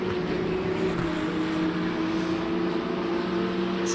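A crowded field of race car engines in the Le Mans Ultimate racing game at Portimao, GT3 class, roars together as a dense, continuous mechanical drone at high volume with no talking.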